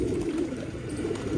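Pigeons coo softly nearby in a steady, low, rolling murmur with a few rhythmic pulses, heard alone without speech.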